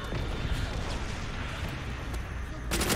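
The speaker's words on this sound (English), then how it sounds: "Wherever they hide, our artillery!" Artillery fire in Call of Duty: World at War during a team deathmatch on the Dome map, a dense continuous rumble of booms and blasts with a sharper loud burst near the end, mixed with game noise.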